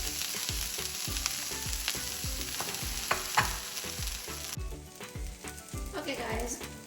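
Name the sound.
okra frying in a pan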